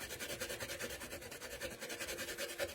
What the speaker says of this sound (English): And then to loosen it up, and then I scrub.